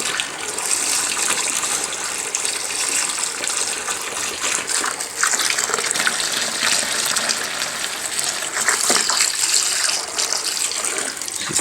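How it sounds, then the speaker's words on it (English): Hot tap water gushes steadily into a container being filled, a loud continuous rushing pour with no talk. "I am filling it with fairly hot water"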